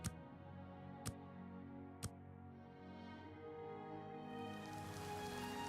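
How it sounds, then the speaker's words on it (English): Rain in Oblivion Remastered: a soft, steady wash of rainfall under a quiet ambient bed, broken by three sharp clicks in the first two seconds, with the patter growing slightly brighter toward the end. "It's raining and cloudy, so we can't see the sun."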